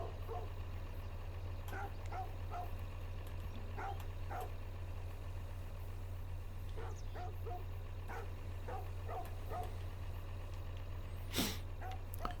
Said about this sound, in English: That dog will not shut up